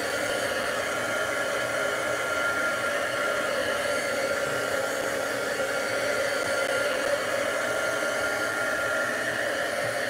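A hair dryer blows steadily on a damp sticker applied to a budget DIY decor piece, a continuous loud airy whoosh with an even hum, close by and unbroken for the whole stretch with no talking.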